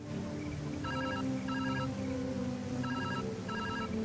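A telephone rings in a video game in two bursts of rapid electronic trilling, steady and fairly loud over a continuous game soundtrack, with no voices.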